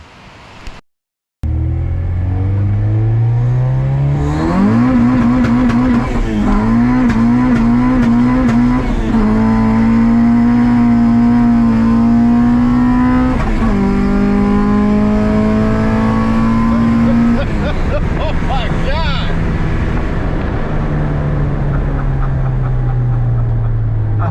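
A Honda Civic with a swapped H23A engine accelerates hard through the gears in the wet, the engine roaring loud and close with rising pitch sweeps at each shift, wheels spinning, after a brief quiet start.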